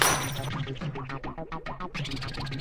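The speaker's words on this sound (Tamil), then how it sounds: "எதுக்கு உங்க போனை உடைச்சிங்க?" A mobile phone is smashed at a gym, giving a sharp crack and shattering burst followed by a run of rattling, clinking impacts of fragments, close and loud with no talk.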